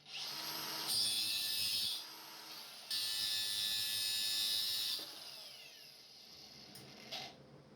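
A power tool cuts through the exhaust pipe of a Honda CRX during a cheap muffler repair, with two loud sustained bursts of high whining grind separated by a short pause, then a quieter tail.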